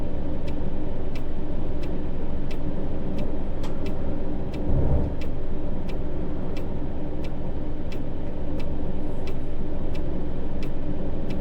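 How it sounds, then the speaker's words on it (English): Steady road traffic hum in a small town at night in Tourist Bus Simulator, a continuous engine drone with faint regular ticking on top and a brief low thump midway, no voices. "A lot of traffic in this little town for 10:30 at night."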